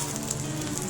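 Samosas sizzle steadily in hot frying oil, a dense, even crackling hiss that carries on at moderate loudness for about a second, with no voices.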